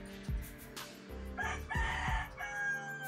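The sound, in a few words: rooster crowing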